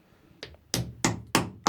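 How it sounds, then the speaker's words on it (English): Axe used as a hammer in a basement, knocking a Victorinox folding saw into a piece of wood: four sharp, loud wooden thwacks at roughly even intervals, preceded by a lighter tap, close and alone. "I could have used my axe of chopping, but let's use it as a hammer."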